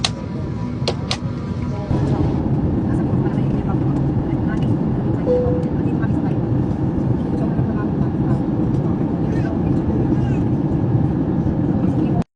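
Steady, loud broadband roar of a Cebu Pacific airplane cabin in flight to Taipei, Taiwan, continuous throughout with a low engine drone and faint voices in the background.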